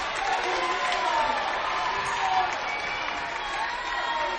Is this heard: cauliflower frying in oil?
no